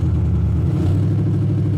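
A Ford Cobra engine running steadily under acceleration, a loud, close low drone heard from inside the car with no clear break for a gear change.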